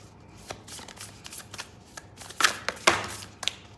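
Tarot cards shuffled by hand at a reading: a soft run of riffling flicks and slaps, irregular and close, building to a few sharper bursts near the end, with no talking.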